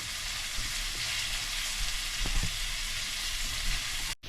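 A paste of garlic and ginger mixed as a spice base for Bengali crab curry fries in a pan with a steady close sizzle, a few low knocks of stirring partway through, then cuts off abruptly at the end.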